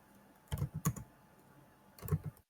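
Keystrokes on a computer keyboard entering a Linux terminal command, two quick bursts of several clicks each separated by a pause, close and clear with no talk.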